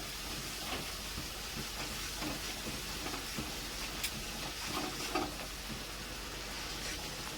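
Chilli spice paste sautéing in a pan for a koi fish curry, a steady broadband sizzle and hiss with a few soft stirring scrapes, close and even throughout.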